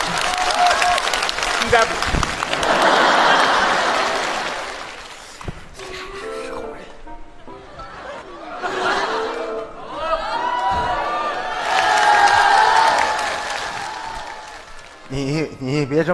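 Audience applause breaks out in bursts during a Chinese comedy sketch at a televised Spring Festival gala, loud broadband clapping swelling and fading beneath and between lively stage talk and laughter.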